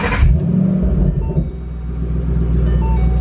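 A Ford Mustang Shelby GT500 engine starting up, a short starter burst followed by a deep, loud rumbling idle that holds steady close by.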